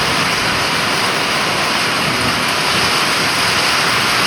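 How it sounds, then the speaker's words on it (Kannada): A heavy village downpour during farm work hisses steadily and densely from start to end, loud and close as if falling onto the recording device. No distinct thunderclap stands out. "ನೋಡಿ ಹೆಂಗ್ ಬಂದೈತೆ ಮಳೆ"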